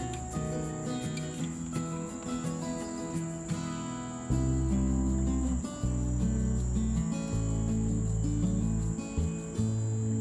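Crickets chirp steadily in a forest, a loud continuous high trill pulsing close by for the whole stretch, with no voices.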